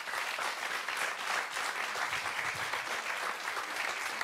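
Steady applause from a television studio audience, an even wash of clapping hands with no voices over it.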